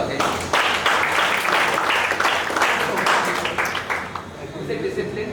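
An audience at an induction ceremony breaks into brisk clapping that holds for several seconds and then thins out, with voices talking over the applause as it fades.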